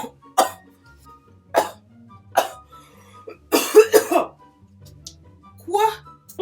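Coughing after drinking Coca-Cola Spicy: several sharp, close coughs in short bursts spaced across a few seconds, with brief throat sounds between them and no talking.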